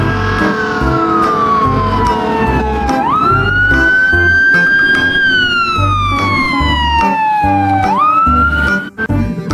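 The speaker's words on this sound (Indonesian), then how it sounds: "di sini ada mobil pemadam kebakaran" A toy fire truck's electronic siren wails loudly and up close, sweeping slowly up and down in long repeating cycles over a steady buzzy tone, then cutting off near the end.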